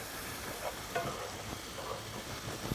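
Sliced steak sizzles and fries on a pizza grill while being stirred, a steady soft hiss with occasional scraping clicks, fairly quiet and close, with no talking.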